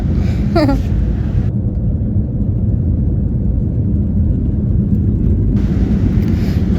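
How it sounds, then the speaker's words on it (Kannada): A steady, loud roar of jet engine noise fills an airplane cabin in flight, a constant broadband rumble with a brief faint chirp near the start. "ಏರ್ಪ್ಲೇನ್ ಸೌಂಡಿಗೆ ಕಿವಿ ಮುಚ್ಕೊಳಕತ್ತಾನ್ರಿ ಅವ."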